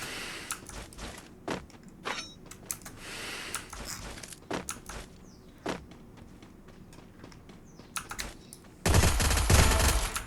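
Free Fire game gunfire, close rapid bursts and single shots in an uneven rhythm, ending in a louder sustained blast of noise, with no talking.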